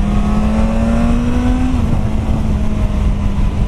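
A Suzuki GSX S1000F motorcycle engine drones loud and close while riding at speed on partial throttle, a steady buzzing roar with a slight rise in pitch before it shifts down and holds on, with strong wind rush throughout.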